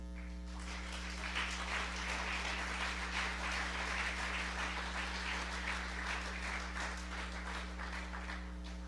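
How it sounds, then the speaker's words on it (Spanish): Congregation applauding in a church service, a sustained wash of many hands clapping steadily for several seconds over a constant low electrical hum. "¿Puedes darle un aplauso a Dios?"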